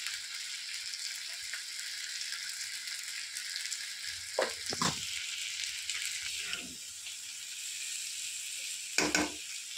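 Raw banana pieces fry for a vegetable dish, giving a soft, steady sizzle with a few louder stirring scrapes and rattles near the pan.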